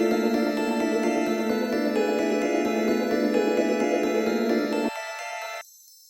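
Sustained synth pad spread across surround channels through band-pass filters, a dense steady harmonic wash that drops out in two abrupt steps, leaving only the higher bands at the end.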